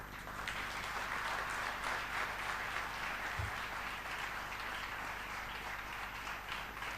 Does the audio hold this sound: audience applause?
yes